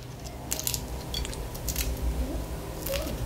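Crunchy fried plantain chips bitten close to the mic, giving a few sharp crackling crunches spread out over a few seconds against a low background hum.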